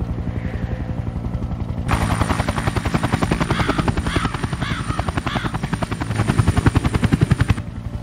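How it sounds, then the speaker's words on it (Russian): Helicopter in the Tibet mission of the video game Sniper: Ghost Warrior 2, a loud close rotor chop and engine whine beating steadily for several seconds after a quieter ambient opening. "Вертолет на земле."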